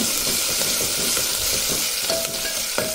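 A tempering of spices sprinkled with salt sizzles loudly in hot oil in a pan, cooking for a dal dish. The crackle and hiss are continuous and close, with a couple of sharp pops near the end.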